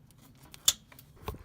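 Trailer wiring tails on a 2016 Toyota Tacoma being snipped off, two quiet, close cutting clicks about half a second apart in an otherwise hushed space.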